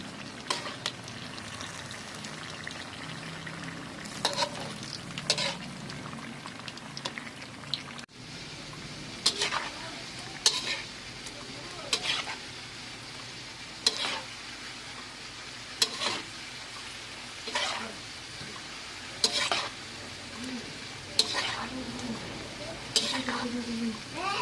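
Sliced bananas with sugar fry in a pan, a low sizzle broken by regular scraping strokes of a spatula, roughly every couple of seconds, with occasional talk in the background.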